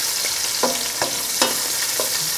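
Tomato salsa sizzles steadily in a pan while a utensil scrapes and stirs it in several sharp, evenly spaced strokes, close and clear, with no talking.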